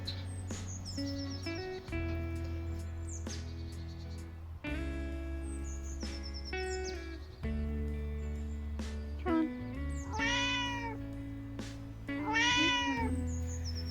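An outdoor cat meows repeatedly in a spring garden among roses, a series of close, clear drawn-out calls with rising and falling pitch, spaced a second or two apart, with faint bird chirps in the background.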